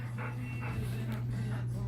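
A young dog whimpers softly and pants in short breaths, faint and close, over a steady low electrical hum.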